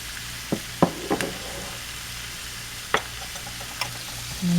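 Chicken and rice with a tablespoon of soy sauce sizzles softly in a hot pan, with a steady low fry broken by a few sharp scrapes and clinks of stirring spaced across the moment.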